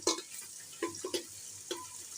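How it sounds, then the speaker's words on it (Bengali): Chopped onions browning in oil with cardamom, cinnamon and cloves: a soft sizzle broken by several sharp spoon-and-pan scrapes at irregular intervals, close and fairly quiet, no talk. "বাদামি কালার করে ভেজে নিচ্ছি।"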